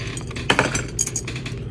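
Small metal fishing spoon lures clink and jingle against each other as they are handled. The light, bright taps come in a few quick clusters, close and moderately quiet.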